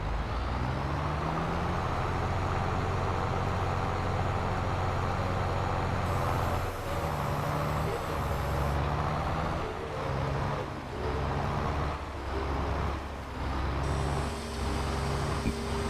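A modded tractor engine in Farming Simulator 22 drones steadily on a custom map, a low, continuous rumble with shifting pitch as the revs rise and fall.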